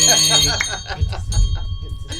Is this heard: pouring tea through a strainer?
no